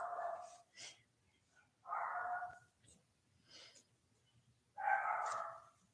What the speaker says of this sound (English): such as the dog barking incessantly